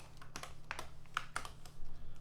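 Light typing on a computer keyboard, a short run of irregular key clicks close by over a faint background hum, without speech.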